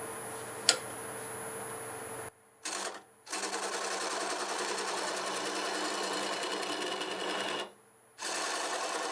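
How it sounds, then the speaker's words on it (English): Wood lathe spinning a maple burl at about 600 RPM while a 3/8 bowl gouge cuts, a steady fine whirring hiss broken by short silent pauses, with one sharp tick near the start. "let's start out with a 3/8 bowl gouge and remove most of it. We'll start out about 600 RPMs."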